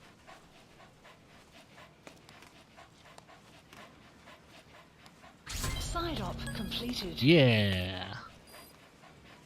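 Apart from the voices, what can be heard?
dog panting in video game Metal Gear Solid V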